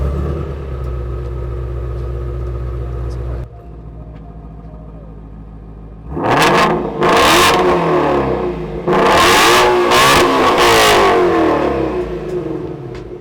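Loud supercar engines rev hard in bursts after a steady idling rumble at a Utah car show, the roar rising and falling sharply several times close by.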